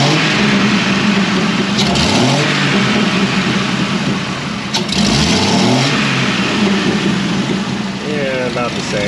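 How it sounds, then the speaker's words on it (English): A 1995 Jeep Wrangler with the 4.0 engine, running but in need of repair, revving up loudly close by in a couple of rising throttle blips over a rough idle. "Let's give it some throttle."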